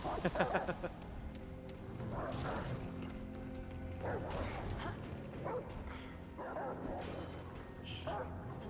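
A dog in the video game Remnant from the Ashes barks and yips while attacking, mixed with combat crashes, thuds and gunfire-like impacts, moderately loud and mostly under a running game soundscape.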